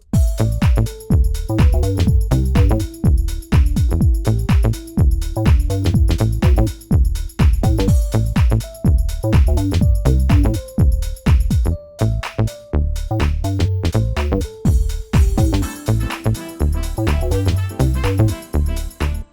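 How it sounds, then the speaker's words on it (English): A synth lead plays a jazzy, stepping deep house melody over steady chords and a driving beat, loud and continuous throughout. "just doing some jazzy melody like so"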